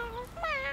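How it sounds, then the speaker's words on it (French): A cartoon kitten gives a couple of short, high, thin meows, close and clear, with a slight rising and falling pitch and no talking. "Regarde, c'est un tout petit chat."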